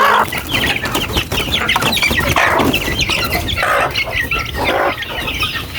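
Pet chickens and chicks cluck and chirp together in a busy, steady chorus of overlapping calls, fairly close, with no talking.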